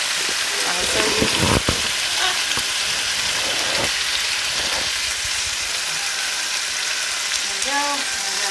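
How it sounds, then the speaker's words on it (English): Chicken sizzles and fries in a pan on a home kitchen stove, a continuous close crackle with occasional louder pops and utensil clatter, and brief background voices. "Right now I am cooking the chicken on the stove."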